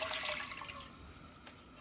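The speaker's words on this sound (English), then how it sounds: "And to my pot, I'll add in some water." Water splashes and pours into a cooking pot on a stove, a short, fairly quiet rushing flow that ends with a louder splash.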